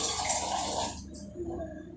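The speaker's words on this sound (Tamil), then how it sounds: "தேவையான அளவு தண்ணி ஊற்றிக்கலாம்." Water gushing and splashing into a pan of roasted semolina for about a second, then quieting to faint trickling and drips.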